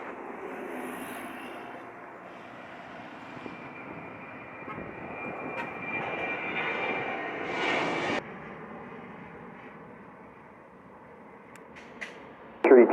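An airplane landing at Montego Bay airport in Jamaica, its steady engine roar heard from a distance and swelling gradually before cutting off sharply, with faint wind noise around it.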